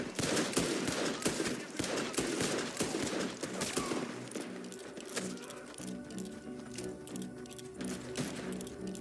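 Soldiers open fire together: a dense fusillade of gunshots and bursts of rapid automatic fire, loud and close at first, then thinning to scattered shots over a lingering rumble.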